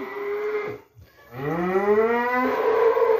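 A four-month-old Simmental calf moos twice, a short low call followed by a long, loud rising bellow close by, with no speech.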